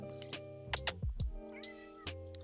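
A pet cat meows several times close by, short rising and falling cries over a steady low background hum.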